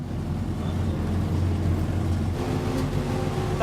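BRDM-2M armored vehicle engine running steadily while driving at about 30 km/h, a loud, continuous low rumble with a strained, rattling drone and no talk.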